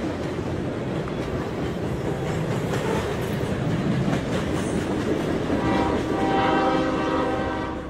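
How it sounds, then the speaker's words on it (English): A CSX locomotive moves through a tunnel near Harpers Ferry station, giving a loud sustained rumble with rhythmic clickety-clack of wheels and a horn sounding toward the end, heavy and close throughout. "During his filming, Obert recorded a CSX locomotive traveling through a tunnel near the Harper's Ferry station"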